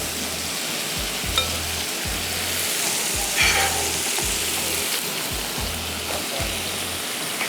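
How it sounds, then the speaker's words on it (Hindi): Onions lightly sautéing in a pan, a loud constant frying sizzle with a regular rhythmic low thumping from stirring, steady from start to finish. "अनियन को हमने बहुत ज़्यादा कलर नहीं देना है, बस जब इसका कच्चापन ख़त्म हो जाए हल्का सा सौते करेंगे"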